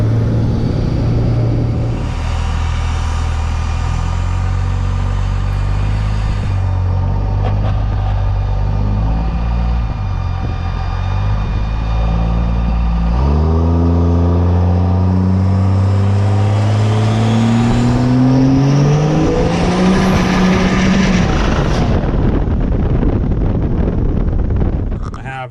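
A green pickup truck in first gear accelerates hard, its engine revving loud and rising in pitch, then drops as the driver clicks a manual shift into second and climbs again, with steady wind rush throughout.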